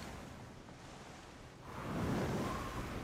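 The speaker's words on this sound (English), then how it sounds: "Waves again, intense," Ocean waves in the pirate video game Skull and Bones: a steady wash of surf and wind noise that swells into a louder rushing crash partway through, no speech.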